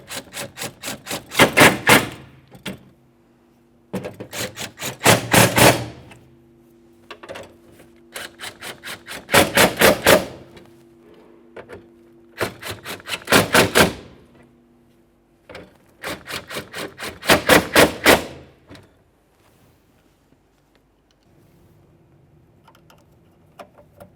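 A tool snugs up bolts on the front left window regulator of a 2002-2009 Chevrolet Trailblazer in five quick bursts of rapid, close clicking, separated by short quiet gaps with faint lighter taps between them.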